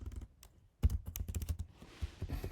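Someone types code on a computer keyboard in quick, uneven runs of close, light key clicks, with one brief pause and a slightly heavier thunk of a key.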